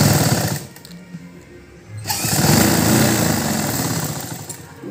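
A sewing machine stitches a half-inch seam on a blouse lining for a 45-inch Poonam saree blouse front. It runs briefly, pauses, then settles into loud, steady mechanical whirring for the rest of the clip.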